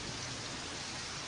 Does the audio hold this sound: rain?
yes